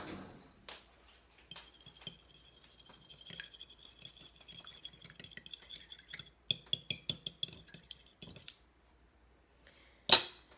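An egg for Nanaimo bars being whisked in a bowl, quiet irregular clinks and taps of utensil against the dish, growing into a quick run of sharper strikes near the end, close with no talking.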